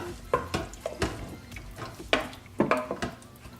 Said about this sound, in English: Once you've done that, you're going to want to give it a good stir.